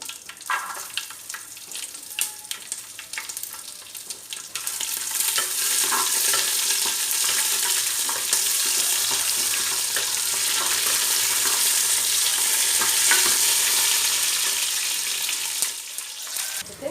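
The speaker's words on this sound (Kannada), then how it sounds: "ಬೆಳ್ಳುಳ್ಳಿ ಪಾಡ್ಗ ಗಾರ್ಲಿಕ್" Garlic sizzles in a pan of hot oil for a fish masala, a steady close frying hiss that swells louder midway, with stirring scrapes and clinks early on and no talking.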